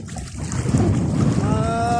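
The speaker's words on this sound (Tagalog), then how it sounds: "masyadong malakas yung karit ng hangin" Gusty wind at sea after Typhoon Crising rumbles loudly across the microphone, with a thin tonal whine rising faintly near the end.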